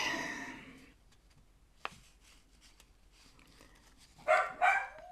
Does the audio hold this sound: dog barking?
yes